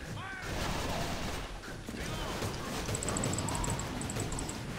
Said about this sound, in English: Oh, they have light machine guns